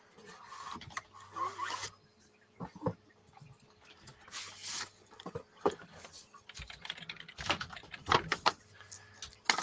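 Fingers tap on a computer keyboard in irregular, fairly close clusters of clicks with short pauses between bursts.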